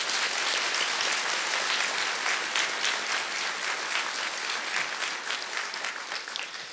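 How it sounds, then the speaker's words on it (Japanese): Sustained applause from a large crowd at a national rally fills the whole stretch, dense and steady, tapering slightly toward the end. "もう一度拍手をお願いします。"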